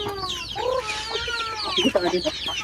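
Several ducks call close by in a farmyard, with overlapping nasal quacks and clucking calls filling the short stretch.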